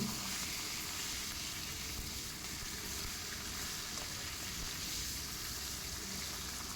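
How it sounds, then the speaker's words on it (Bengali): Fish heads frying in hot oil while being turned in the pan, a steady dense sizzle that holds loud and even throughout, with no voices. "এইভাবে উল্টে পাল্টে লাল লাল করে ভেজে তুলে নেব"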